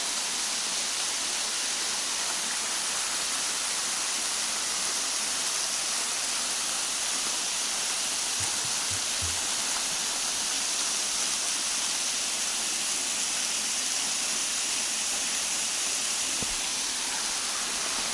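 Yaganak Falls in Calauag, Quezon pours in a steady, broadband rush of falling water, continuous and fairly loud throughout with no voices, just an even hiss-like roar and a few faint low thumps.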